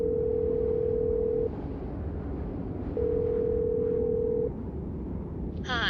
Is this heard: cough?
no